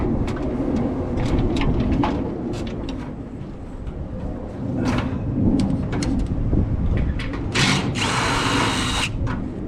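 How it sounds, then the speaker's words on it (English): A power drill backs self-tapping screws out of a roll-up garage door, giving a loud, close whirring drone with intermittent bursts, rattles and a harsh grinding stretch near the end. "now I can take those other two self-tappers off down here"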